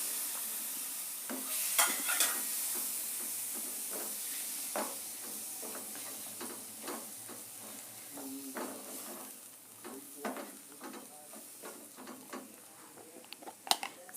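Tomato frying on a low flame with a gram-flour masala, giving a soft, quiet sizzle broken by frequent light scrapes and taps of a stirring spoon, heard up close with no talking.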